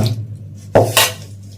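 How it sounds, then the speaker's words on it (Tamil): Dishes clink and clatter in two sharp knocks, with a quiet splash of water between them in a kitchen sink. "பாத்திரம் கழுவிட்டு இருக்கு."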